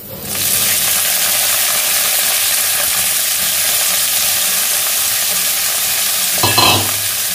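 Onions hitting hot oil with a dry chilli and bay leaf, a loud steady sizzle and hiss that fills the whole stretch, with a brief stirring clatter near the end, close and without speech.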